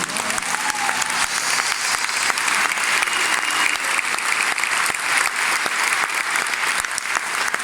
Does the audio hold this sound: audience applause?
yes